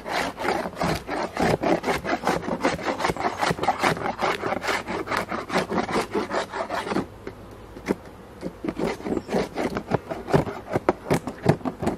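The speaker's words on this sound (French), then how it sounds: "Il y a de la cire à gratter ici" A tool scrapes beeswax off a wooden beehive frame during hive maintenance, with steady rapid rasping strokes close up, a brief quieter stretch midway before the scraping resumes; no talking.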